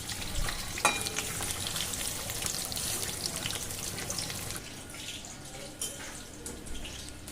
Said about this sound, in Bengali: এভাবে আমি সমস্ত বড়াগুলো ভেজে নিচ্ছি